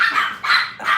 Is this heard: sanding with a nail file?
no